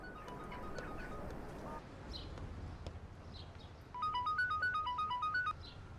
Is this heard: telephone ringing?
yes